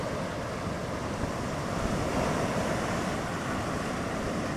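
Ocean waves surge steadily onto an eroding Cameroon shoreline, a dense continuous roar of surf mixed with wind buffeting the microphone, loud and close with no voices.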